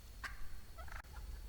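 A wild turkey, one of a flock of seven in snowy winter woods, gives a brief gobbling call. The call is faint and distant, with a couple of short bursts over quiet background.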